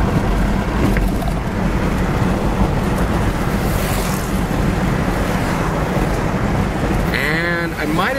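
Steady broadband road and wind rumble inside a one-owner 1982 Ford Granada Fox station wagon cruising toward the freeway, loud and continuous, with a few tonal chirps near the end.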